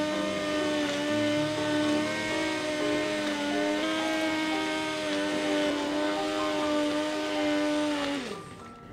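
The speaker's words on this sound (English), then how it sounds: "Let's blend it properly now." A hand blender whirs steadily through thick toovar dal thinned with water, a close, loud motor drone with shifting pitch that winds down at the end.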